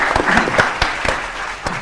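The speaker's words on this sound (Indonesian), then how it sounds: "Oke, tepuk tangan dulu untuk kedua tim." Brief burst of clapping from a studio audience at a TV quiz show, moderately loud and close, lasting under two seconds.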